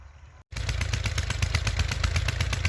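A tractor engine chugs loudly and steadily with a rapid, rhythmic pulsing as it arrives at a wheat field to plough at dusk, the roar kicking in abruptly after a brief quiet moment.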